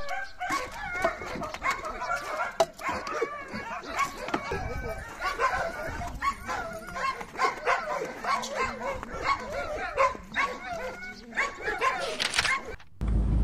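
Dogs bark and yip repeatedly inside a car stripped of its seats on a long road trip toward Siberia, with sharp close barks in irregular bursts, some whimpering, and people talking at times.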